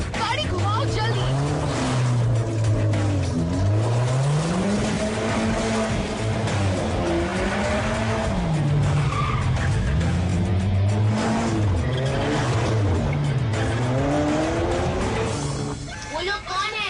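In a cartoon chase, a car swerves into a fast turn with long, wavering tire squeals and an engine roaring close and loud, while voices speak over the skid.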